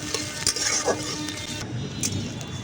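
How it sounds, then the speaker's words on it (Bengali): Chopped onion fries in oil with a moderate sizzle and clatter of stirring, partly mixed with other kitchen noise and a faint voice. "পেঁয়াজটাকে একটু হালকা করে ভেজে নেব"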